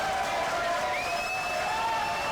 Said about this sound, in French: Applaudissements pour mes invités.